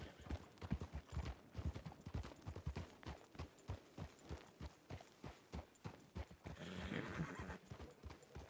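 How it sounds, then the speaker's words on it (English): A horse in a western ranch role-play video game gallops with rapid, evenly spaced clip-clop hoofbeats, then gives a loud whinny near the end, close and clear with no talking over it. "My horse just didn't want to stop."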